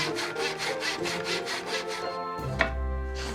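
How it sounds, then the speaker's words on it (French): A hand miter saw cuts through wood in quick, regular back-and-forth strokes, close by, then stops with a light knock. "je vais utiliser une scie manuelle à onglet"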